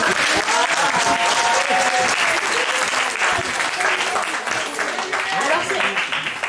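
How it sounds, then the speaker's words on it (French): An audience applauds steadily and loudly at a 90th-anniversary celebration for APF France handicap, welcoming a slam poet, with a voice speaking over the clapping throughout. "On va l'applaudir déjà"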